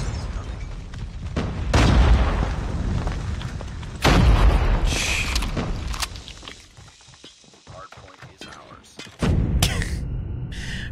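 A grenade detonates in a Call of Duty zombies-style shooter, a loud booming blast with several heavy explosive hits spread across the moment amid game noise, while a player talks over it.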